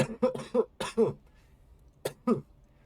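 Several harsh coughs in quick bursts, then a pause and two more coughs, close and fairly loud with no talking.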